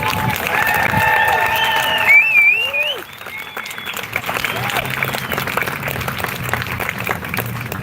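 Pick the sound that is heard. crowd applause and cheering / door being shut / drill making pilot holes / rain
crowd applause and cheering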